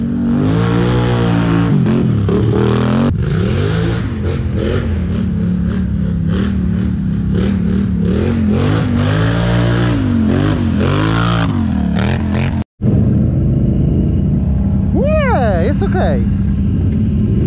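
An ATV engine climbs a steep hill in the Bieszczady mountains, revving up and down in rising and falling surges, loud and close, with someone talking over it.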